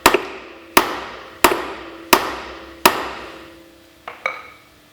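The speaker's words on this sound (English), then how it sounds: "While holding pressure on, using the hammer, tap the nut that we loosened before." Steel hammer tapping a loosened wheel nut on a Tow and Collect 1500 trailer wheel: five sharp metallic strikes at a steady pace, each ringing briefly, then two softer lighter taps, close and clear with no talk.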